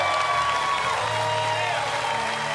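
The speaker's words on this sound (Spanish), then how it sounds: "Un aplauso para esta banda espectacular también." Studio audience applauding and cheering for a band on a TV variety show, a steady dense wash of clapping with some crowd voices, fairly loud and continuous throughout.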